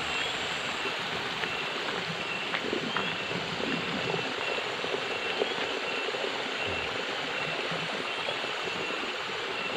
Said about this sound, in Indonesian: Dan di bawah sana adalah sungai.